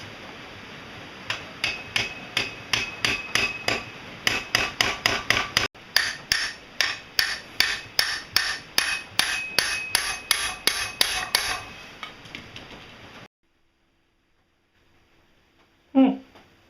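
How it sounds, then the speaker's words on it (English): Metal pipe being hammered to spread it: a long run of sharp, ringing strikes, close and loud, in steady then quickening rhythm, followed by quiet and one last knock. "that sucker's in there pretty good, considering how much pounding it took to spread this metal"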